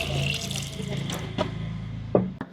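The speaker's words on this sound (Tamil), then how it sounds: "அடுத்தது கொஞ்சமா தண்ணி சேர்த்துக்கொள்ளுவோம்." Water runs and splashes into washed potatoes in a kitchen vessel, a short burst of pouring with small clunks and knocks at close range.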